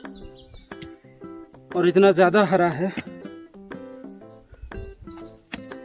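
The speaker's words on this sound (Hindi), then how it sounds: "चिड़ियों की आवाज़ें ही सुनाई दे रही हैं" Birds chirp in a dense green forest on the Khaliya Top trek in Munsiyari, Uttarakhand, short high tweets scattered through the clip while someone speaks over them.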